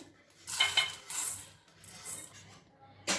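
Roasted vermicelli is scraped out of a pan into a bowl with metal utensils: repeated bursts of clinking and scraping, close and fairly loud, with short pauses between strokes.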